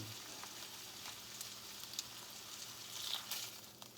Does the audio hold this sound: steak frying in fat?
yes